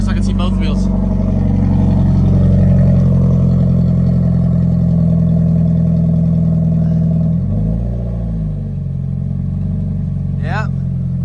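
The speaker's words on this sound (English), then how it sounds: "Yeah, both wheels are spinning." Subaru FRS with a welded differential revving steadily in a garage as both drive wheels spin, a loud sustained engine drone with a brief dip near the end, with people talking over it.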